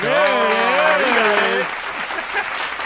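Canned applause plays on a podcast as a steady burst of crowd clapping, with a voice talking over the first part.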